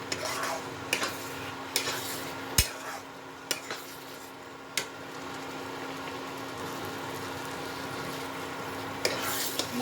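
Carrot halwa being stirred and mixed in a pan: a spoon scrapes and clinks against metal at irregular intervals, with a few sharp knocks standing out over a faint, steady sizzle, close and quiet.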